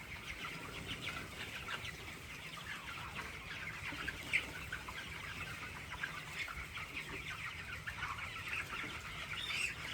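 Chickens in a poultry shed on a cold morning cluck and call steadily, a dense flock chorus with occasional louder squawks and some wing flapping, no voices.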